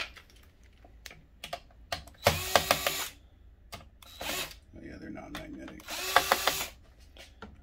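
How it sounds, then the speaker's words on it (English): A power screwdriver backs stainless steel screws out of a Zebra ZQ620 mobile printer case in two short whirring bursts, with quiet clicks and handling noises between them and a voice low in the background. "starting by removing the four screws in the back and the two screws that are in the top"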